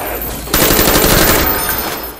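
Galil rifle fire in Call of Duty: Black Ops Zombies on the Kino der Toten map: a loud, sustained automatic burst begins half a second in and rattles on steadily with no talking.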